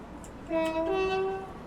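A brief two-tone train horn in the video game Train Sim World 4 on the Suffragette Line sounds for about a second, a clean steady chord rising slightly before fading, over low background hum.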